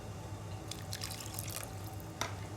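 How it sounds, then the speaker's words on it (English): Water is poured into soaked rava idli batter, a quiet splashing trickle with some drips, faint over a low background hum. "Now let's add in some water"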